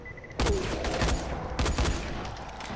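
Video game gunfire crackles in two rapid, loud volleys of close shots, each burst a quick stutter of reports, with a short lull between them.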